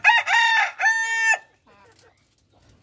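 A native deshi rooster kept in a cage crows loudly and close by in one drawn-out, multi-part call. A fainter, brief vocal trail follows, then quiet.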